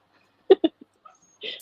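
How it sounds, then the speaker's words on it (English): A puppy yips and whimpers in the background in a few short, moderately loud bursts, with a brief higher whine near the end. "Sorry, my puppy's in the background. She might start barking."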